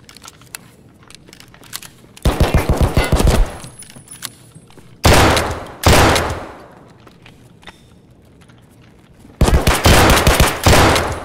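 Loud, close bursts of rapid gunfire in a shooter game, including shotgun and sniper shots, arriving in three dense clusters separated by quieter stretches with faint clicks.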